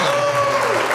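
A short burst of clapping from people in a casual podcast setting, dense and fairly loud, with a voice and a tonal hum running underneath.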